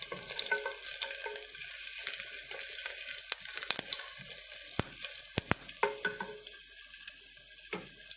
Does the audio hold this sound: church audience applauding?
no